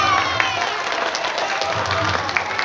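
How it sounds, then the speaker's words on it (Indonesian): High school students at an OSIS name-tag ceremony clap and cheer together, a loud, busy crowd of hands and voices close by, continuous throughout. "Tepuk tangan."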